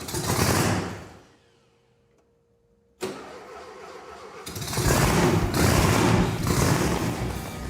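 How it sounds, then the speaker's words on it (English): A supercharged Volkswagen engine in a custom garage build cranks and fires, drops briefly near silent, then catches and settles into a loud, steady running rumble that swells slightly toward the end. "Turn the key, and it starts, just as it was advertised. I love the sound of Volkswagen engines."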